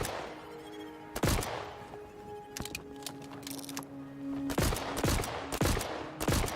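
Gunfire in the video game VoidTrain, with several loud, sharp bursts of shots spread unevenly across the span, some in quick clusters, over a low mechanical hum with tonal game sounds.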